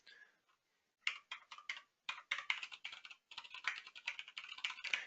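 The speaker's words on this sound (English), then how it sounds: "I can also just start typing." Rapid typing on a computer keyboard, close and clear, with irregular bursts of keystrokes broken by short pauses, alone with no talking.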